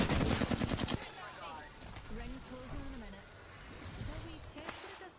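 Rapid gunfire in Apex Legends, a quick burst of loud repeated shots in the first second, followed by quieter game sounds and a voice talking.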